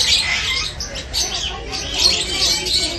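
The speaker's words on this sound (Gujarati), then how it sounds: "આ ફિશર લવ બર્ડ છે," Fischer's lovebirds at an aviary in Kankaria call with repeated high chirps and tweets, fairly near and continuous, over a low background murmur.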